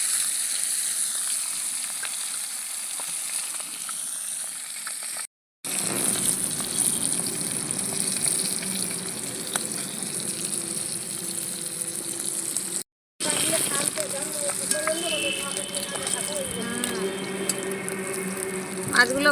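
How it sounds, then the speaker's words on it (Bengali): Steady sizzling of small chara pona fish frying in hot oil, a constant hiss with faint clinks and two brief dropouts. "তেল গরম হয়ে গেছে মাছগুলোকে ভেজে নেব ছোটো ছোটো চারাপোনা মাছ"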